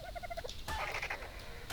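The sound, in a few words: dodo bird calling in Ark Survival Evolved video game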